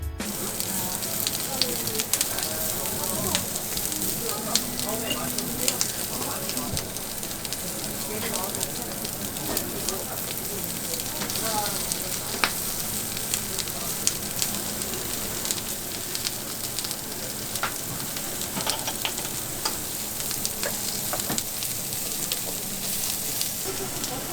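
Lamb loin sizzling on a grill at a busy Korean restaurant in Yongsan, Seoul, a close, steady crackle and hiss of fat with frequent sharp pops, while people talk quietly nearby.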